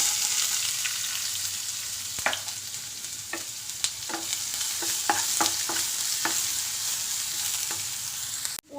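Chopped onions fry in hot oil with cumin seeds, giving a steady, close sizzle with scattered clicks of a spoon stirring against the pan, then cutting off abruptly near the end.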